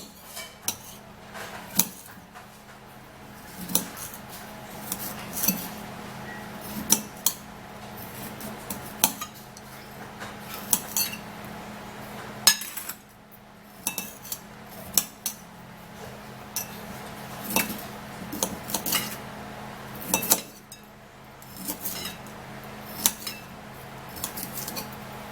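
A knife cuts food into pieces on a board, tapping and clinking in an irregular rhythm of sharp, close hits over a quiet background, with no voices.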